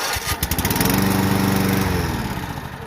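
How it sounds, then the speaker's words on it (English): A lawn mower with electric start runs at an auction house, its engine loud and close with a steady, slightly pulsing drone throughout. "This is a good running mower."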